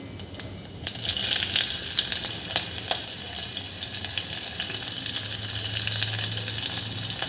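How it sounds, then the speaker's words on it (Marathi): Cumin seeds and green chillies frying in hot oil for a tempering, an abrupt loud sizzle as they hit the pan, then a sustained hissing crackle, close and continuous, no talking. "आपल्या मिरच्याला छान दोन मिनटं परतून घ्यायचं आहे"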